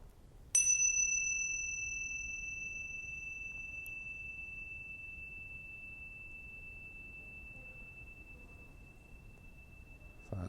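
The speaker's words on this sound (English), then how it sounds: "I'll begin and end the meditations with a bell" A meditation bell is struck once and rings on with a clear, pure tone that slowly fades over about ten seconds in a quiet room.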